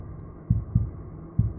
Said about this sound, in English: I heard the sound of my own heartbeat.